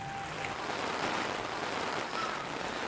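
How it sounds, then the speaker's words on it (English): Heavy pouring rain falls outdoors in stormy Florida weather, a steady, dense hiss that holds evenly throughout with no voices. "it is pouring down rain"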